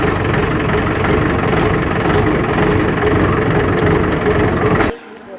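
A 1972 Mahindra jeep, converted to a Willys-style body, idles with a steady, loud, close-up engine rumble for about five seconds, then cuts off abruptly into near silence.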